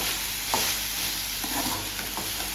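Food deep frying in hot oil, a steady bright hiss of sizzling bubbles that never lets up, with a few soft clinks and stirring knocks from the pan. No one talks.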